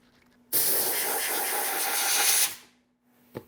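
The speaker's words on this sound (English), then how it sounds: "I should be able to just rinse it off" A steady, loud hiss of spraying water rinsing a custom sign, running for about two seconds and then cutting off, followed by a short knock.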